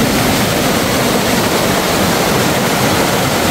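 Small waterfall at Bolinao Falls, a steady loud roar of rushing fresh water that fills the scene with constant broadband noise and no voices.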